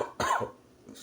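A single close, harsh cough, short and forceful, followed by a brief rasp, then quiet.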